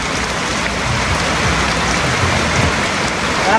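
Steady, dense rain hisses across the whole spectrum without a break, a constant flooding downpour close by with no voices or other sounds.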